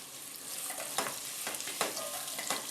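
Chopped raw mango and ginger sautéed in a pan, a steady close sizzle with a few sharp stirring scrapes and clatters spread through it, no voices.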